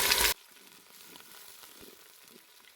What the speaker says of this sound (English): I'll add in my ginger and garlic paste, my coriander together with my green onions